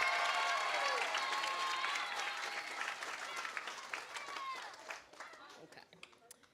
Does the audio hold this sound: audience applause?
yes